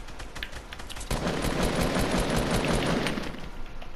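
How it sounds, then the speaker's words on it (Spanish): Automatic gunfire in the video game Fortnite, a sustained burst of rapid shots that grows louder after a brief quieter opening, with no voices over it. "Cuidado que estaban disparando a su izquierda"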